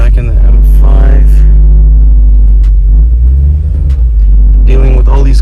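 BMW M5 car moving through traffic, a loud continuous low rumble of engine and road noise with a few rising engine tones at the start and end, close and constant.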